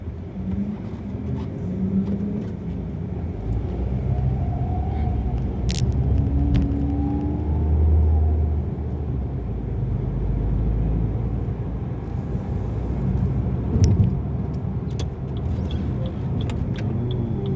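Road traffic at a U-turn in Saudi Arabia near a train station: a steady, loud low rumble of passing cars and vehicles, with occasional faint clinks and brief higher sounds on top, no talk.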